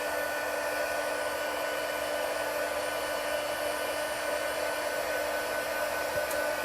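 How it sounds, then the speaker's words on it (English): A Stampin' Up embossing heat tool heating up, a continuous steady blowing whir with a faint hum, close to the microphone and unbroken throughout, no voices. "I do need to get my heat tool real quick. And I'm going to go ahead and heat it up."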